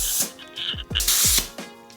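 Electric dirt bike tire taking air in short bursts, several hissing pulses with clicks of the valve fitting between them, close and fairly loud, no talking.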